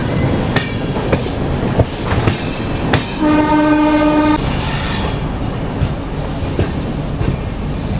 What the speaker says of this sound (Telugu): ఈ పక్కన చూసుకుంటే సికింద్రాబాద్ నుంచి శ్రీకాకుళం రోడ్డు వెళ్ళే స్పెషల్ ట్రైన్ అయితే వెళ్తుంది